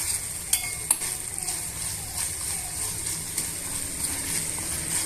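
Ivy gourd masala frying in a pan, a steady soft sizzle with a few sharp ladle taps and stirring scrapes, close and moderately quiet throughout.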